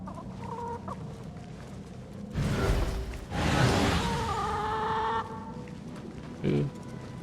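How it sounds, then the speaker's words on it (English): Chickens cluck repeatedly in an Assassin's Creed game, with loud bursts of clucking and flapping rising over steady ambient game sound; a voice talks in the background. "That's the sound of chickens."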